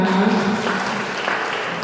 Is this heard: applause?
yes